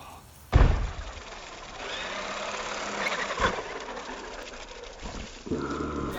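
A Traxxas Maxx 4S RC truck runs at speed, its electric motor whine and rolling tire noise steady after a sharp impact thump, with a second clattering landing near the end; no talk.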